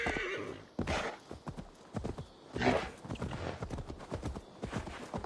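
Horse in Assassin's Creed Valhalla, hooves clip-clopping in a steady trotting rhythm with a whinny near the start, close and clear over light game ambience.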